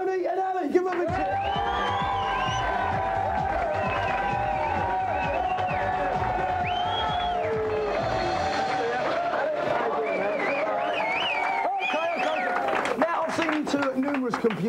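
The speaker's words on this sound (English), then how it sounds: "Give them a cheer." A television game show's studio audience cheers and whoops loudly for two celebrity guests, a dense sustained crowd roar with shouts rising above it and speech woven through, lasting throughout.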